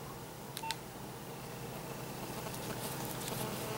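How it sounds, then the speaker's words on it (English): A telephone dialing the operator, a few faint short tone beeps early on over a quiet hissing line. "It's dialing."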